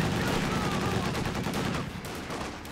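M1 rifle gunfire in a combat video game, a dense, loud burst of rapid shots and battle noise that fades slightly toward the end, with a voice faintly underneath.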